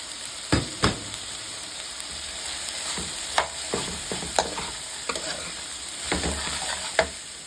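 Onions and celery frying in a pan with salt, a steady close sizzle broken by irregular scraping stirs and clicks of a utensil against the pan.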